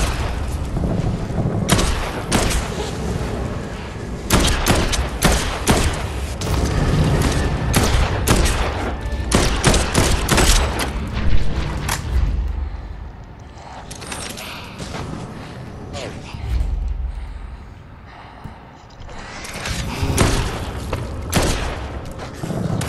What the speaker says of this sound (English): Set off the right side mortars at will